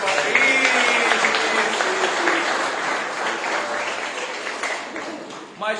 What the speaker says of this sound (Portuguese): Por favor, gente, palmas para ela